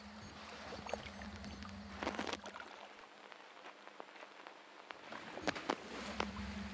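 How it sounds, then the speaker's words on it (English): Water splashing somewhere behind the player in the fog in Outlast 2, a few soft splashes and sloshes over a steady ambient rumble, with no talking. "I hear water behind me. Water splashes."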